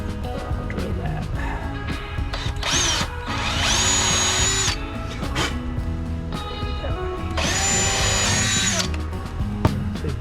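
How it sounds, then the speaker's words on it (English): A power drill fitted with a Forstner bit bores into wood while building a deck lounge chair, whining up in two long bursts between shorter starts and stops, loud and close. "I'm going to use a Forstner bit. I'll drill that."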